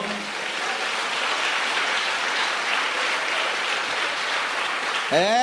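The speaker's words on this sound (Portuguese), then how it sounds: "Você pode dar um aplauso ao Senhor?" Church congregation at a Brazilian service applauding steadily, a dense, even wash of clapping from many people that holds for several seconds before a voice breaks in at the end.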